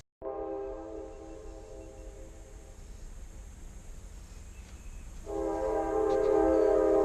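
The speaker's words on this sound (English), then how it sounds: "as you can obviously hear, there's a train in the background" A train rumbles past with a sustained horn blast, which fades briefly and then returns louder and closer near the end.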